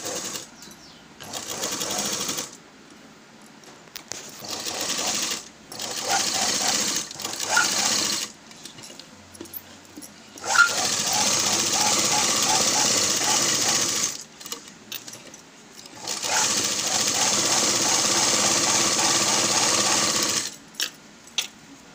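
Sewing machine stitching blouse fabric, running in several bursts of rapid mechanical whirring separated by short pauses, close and steady, with no talking.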